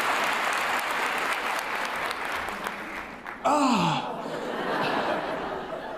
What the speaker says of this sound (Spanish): Aplaudan a los que le molesta.